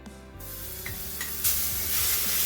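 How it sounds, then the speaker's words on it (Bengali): Ginger paste and garam masala frying in a pan, a broad sizzling hiss that swells louder partway through, with a few soft stirring clunks, close up and with no talking. "আদাটা দিয়ে ভালোভাবে ফ্রাই হয়ে গেছে।"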